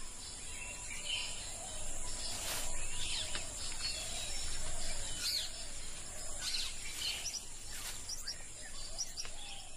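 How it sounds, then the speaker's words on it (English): Birds of the Sri Lankan rainforest call in repeated bright chirps and whistles over a dense, steady hum of insects, the calls rising and falling at middle distance with no talking. "These birds are found nowhere else on Earth but Sri Lanka's rainforest."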